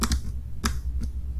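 Keys tapping on a computer keyboard, a handful of separate clicks spaced irregularly over a quiet background hum.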